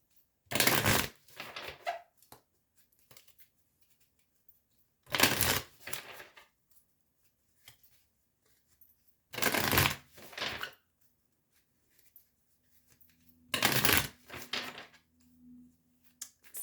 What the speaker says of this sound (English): I'm just going to shuffle the deck again here